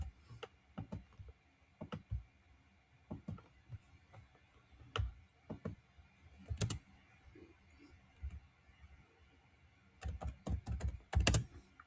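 Someone types on a computer keyboard nearby, with quiet scattered keystrokes in short bursts and pauses, ending in a denser flurry of clicks.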